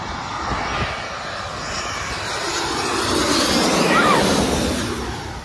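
A fixed-wing airplane passes low overhead above a beach in Phuket, its broad engine roar swelling toward the end as it comes close, with no talk.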